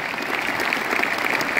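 Audience applause at a Vestige success seminar: dense, steady clapping from a large crowd, loud and continuous throughout with no pauses.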